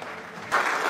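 An audience at an evening event greets Qasim Ali Shah with applause, a brief burst of crowd clapping that swells suddenly louder partway through.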